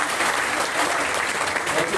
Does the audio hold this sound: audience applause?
yes